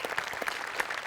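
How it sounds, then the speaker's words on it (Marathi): An audience on a Marathi comedy stage show claps for two performers, a brief burst of scattered close hand claps lasting about a second. "डांगे आणि सम्या दोघांसाठी एकदा टाळ्या."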